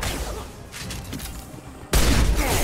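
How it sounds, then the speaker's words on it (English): A single sharp burst of gunfire from the video game Mass Effect 2, a sudden loud blast arriving after a quieter stretch of game noise and ringing on briefly. "I shot the box behind him."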